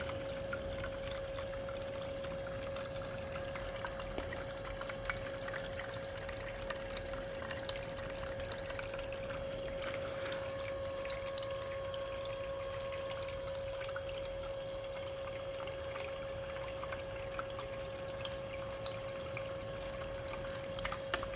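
Water pours and washes steadily through a gold prospecting sluice with a Dream Mat, a continuous close rushing flow with a faint steady tone running beneath it throughout.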